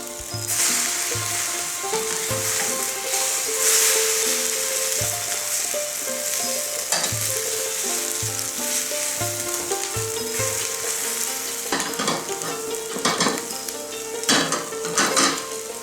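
A Thai omelet with ground pork and chilis fries in a pan with a steady close sizzle, broken by scraping and clinks of a utensil against the pan and several louder bursts toward the end.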